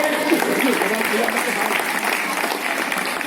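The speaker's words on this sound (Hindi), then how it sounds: "एक बार जोरदार तालियां डॉक्टर साहब के लिए" Enthusiastic audience applause for a doctor at a devotional bhajan event, a dense continuous burst of clapping at steady loudness throughout.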